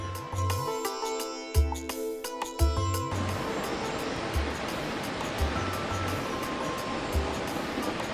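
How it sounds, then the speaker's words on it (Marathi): Lingmala waterfall at Mahabaleshwar, heard from the viewpoint as a steady broad rush of falling water, with a tonal musical passage layered over it for the first three seconds before the water noise continues alone. "आपण द ग्रेट लिंगमळा धबधबा याच्या व्ह्यू पॉइंटला पोहोचलेलो आहे"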